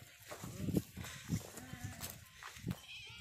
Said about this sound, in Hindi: ये देसी बकरा जिसको बोलते हैं मारवाड़ी बकरा